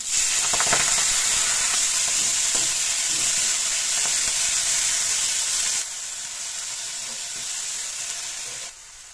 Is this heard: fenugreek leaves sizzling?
yes